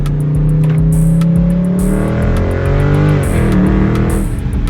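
A Dodge Scat Pack's engine roars loud and close from inside the car, a sustained rumbling rev whose pitch sags and then climbs again without letting up.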